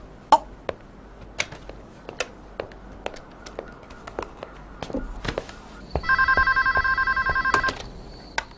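A telephone rings for an outgoing call in a domestic scene, a clear repeated electronic ring near the end after a stretch of scattered faint ticks and clicks in a quiet room.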